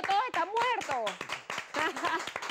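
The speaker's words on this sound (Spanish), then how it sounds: "¡Aplausos, vale!" Studio audience on a Saturday night television show clapping in quick, sharp bursts, close and fairly loud, with talking voices running over the applause throughout.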